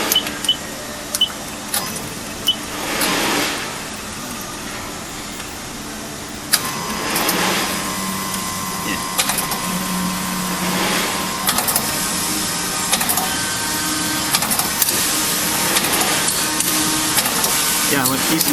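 An FH-80J machine runs steadily with a mid-pitched mechanical hum and faint whirring, punctuated by a few short clicks, while a person talks over it throughout.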